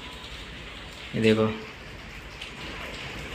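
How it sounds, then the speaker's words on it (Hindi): Steady rain falls outside a house under construction, a continuous soft hiss running throughout at moderate level while someone speaks briefly over it. "बारिश हो रही है"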